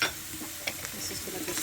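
Chopped onion going into mushrooms already frying in a pan, giving a soft, steady sizzle with light stirring and a few faint utensil clinks, fairly quiet and close.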